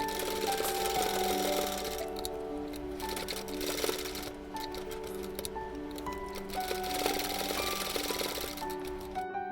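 Sewing machine running steadily, stitching a small dress for a Laddu Gopal figure; the motor hums and clatters continuously up close with a faint background tone, no talking.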